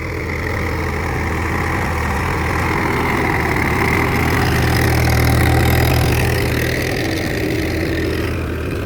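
A Mahindra International B275 tractor ploughing wet soil with a wide plough under load, its diesel engine giving a continuous loud low rumble that swells slightly midway, with no talk.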